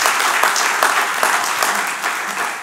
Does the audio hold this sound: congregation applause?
yes